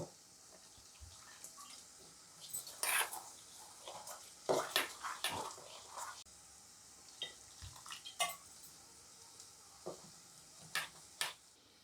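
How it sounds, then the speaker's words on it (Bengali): Gram flour batter being whisked with water in a bowl, irregular bursts of wet stirring and sloshing that come and go, close by, with quiet pauses between strokes. "শুধু জল দিয়ে এটাকে এবার ফেটিয়ে নেব"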